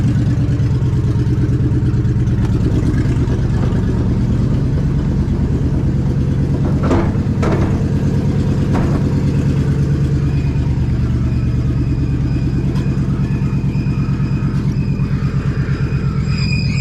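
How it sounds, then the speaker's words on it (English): A truck's engine runs loud and steady nearby, a thick low rumble that never lets up, with a couple of brief sharp knocks partway through and no talking. "this truck is so flippin' loud"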